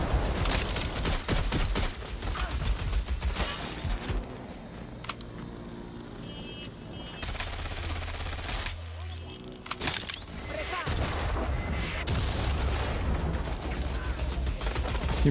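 Rapid bursts of gunfire at drones in Watch Dogs: Legion Online on PS5 rattle in repeated volleys, loud and close, with brief quieter pauses between shooting sequences.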